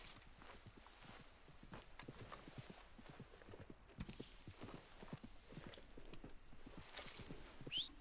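A horse in the video game Red Dead Online clip-clops steadily at a walk, hooves thudding in an uneven rhythm, with a brief whinny and soft snorts near the end.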